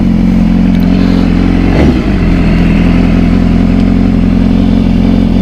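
A BMW S1000RR superbike being ridden, its engine a loud, continuous close drone with steady rumble and wind noise, holding an even note throughout.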